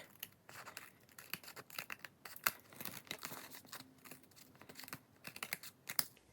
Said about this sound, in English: I'm going to cut away the right and left excess